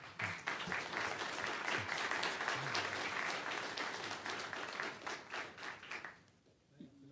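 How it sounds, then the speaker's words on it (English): An audience at a technical workspace presentation breaks into sustained applause, a dense wash of many hands clapping that holds steady for several seconds before tapering off near the end. "First up, let's get a round of applause for Everett."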